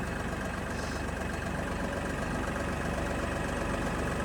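A tractor engine runs steadily while the tractor drives along, carrying solar panels on a stand. A loud, continuous, rumbling drone with a fast even pulse holds throughout, with no talking.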